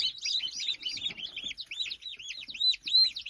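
Many baby chicks chirp continuously in a crowded brooder, a dense overlapping chorus of high, rapid peeps close by with no talking.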